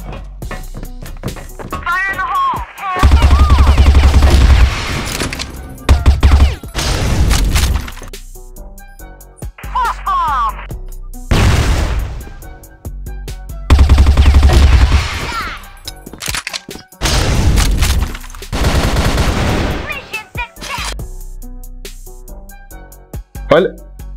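An automatic gun fires bursts in a video game as several loud, crackling volleys of rapid shots, each lasting a second or two, separated by gaps, with someone talking between them.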